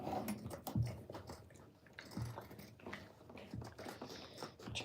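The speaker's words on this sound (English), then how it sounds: "Wilson, please don't chew the rug. No chewing on the rug." A dog chews on a denim rug, producing soft, irregular biting and gnawing sounds at close range in a quiet room.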